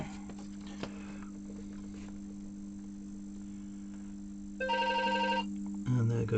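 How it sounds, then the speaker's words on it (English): A telephone rings close by with a bright electronic warble, one burst near the end followed by the start of another, over a steady electrical hum in a room with a ZX Spectrum +3 under repair. "And there goes the phone."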